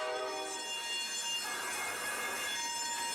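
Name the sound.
train wheels squealing in the video game SnowRunner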